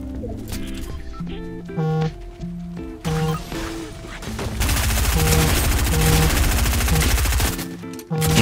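Video game gunfire bursts in rapid strings against a steady tonal music bed, growing into a dense, loud stretch of continuous shooting near the end.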